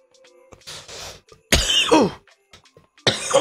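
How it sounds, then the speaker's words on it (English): A man gives a couple of harsh, raspy coughs, loud and close, with bursts separated by quiet gaps, against faint background sounds from a basketball video game. "Excuse my terrible cough, man."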